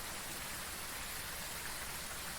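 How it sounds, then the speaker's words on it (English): Steady rain ambience in the Phasmophobia ghost-hunting game, an even, unbroken hiss of falling rain with no variation and no voices. "the ambient sound of the rain doesn't swap to the indoor version"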